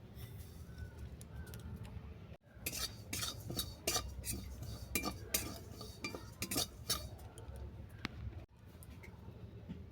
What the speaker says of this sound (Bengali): প্রথমে তিল আর পোস্তটা আমি ড্রাই রোস্ট করে নেব